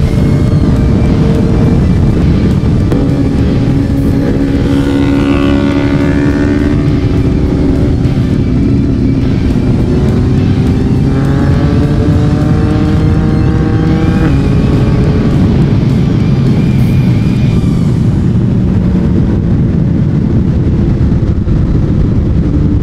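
A Yamaha MT-09 motorcycle rides at full throttle on the way to Sepang, its engine climbing through rising, falling gear pulls close and loud, with steady wind rush throughout.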